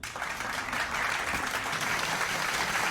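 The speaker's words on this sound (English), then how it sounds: "The best part about that clap sound effect is I only hear it while you're talking." Dense, continuous clapping fills the clip at a steady loud level, like a burst of applause with no pauses.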